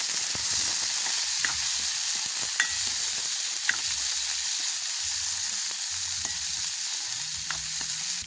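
Chopped onions sauté in a pan at a village cooking spot, giving a loud steady sizzle with occasional stirring scrapes and low thumps throughout.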